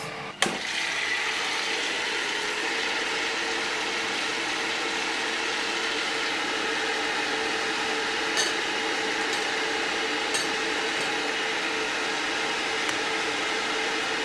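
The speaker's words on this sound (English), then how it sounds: "we have been air frying for approximately 10 minutes now at 180 degrees Celsius" An air fryer cooking spicy fish at 180 degrees Celsius gives a steady, even fan whir for the whole stretch, with a few faint clicks and no talking.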